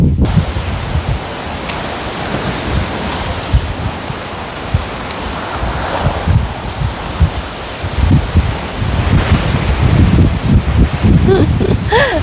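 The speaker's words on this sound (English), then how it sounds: "The wind is really starting to blow." Gusty wind rushes loudly outdoors through a garden bean trellis, rustling the leaves and buffeting the microphone in a steady roar.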